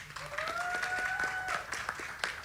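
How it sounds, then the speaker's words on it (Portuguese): An audience applauding a guest on stage at a Christian fiction panel event, steady clapping throughout with a faint sustained tone running under it. "Primeiro eu vou pedir que também vocês aplaudam o Osmar Guerra."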